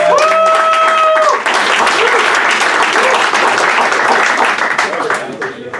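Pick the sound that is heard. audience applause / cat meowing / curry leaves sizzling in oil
audience applause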